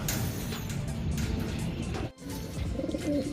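Low, rumbling pigeon coos repeat through the clip over steady background noise, with a brief dip in sound midway.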